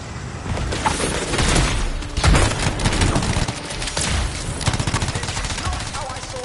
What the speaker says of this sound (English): Get out and take shots at the Strider.